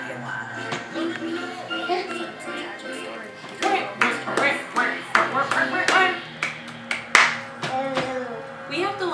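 A young child claps hands in a home, several soft, uneven claps scattered among an adult's nearby voice and some light tapping.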